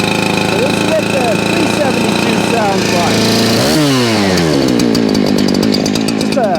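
A Husqvarna 372 chainsaw engine idles steadily and then revs up, its pitch rising and falling in waves; loud and close, running continuously throughout.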